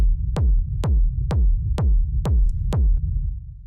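Techno rumble kick drum at 127 BPM, seven evenly spaced punchy thumps over a continuous low, boomy rumble that fills the gaps, alone and prominent.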